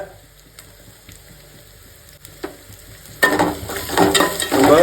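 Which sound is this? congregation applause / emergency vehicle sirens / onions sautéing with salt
onions sautéing with salt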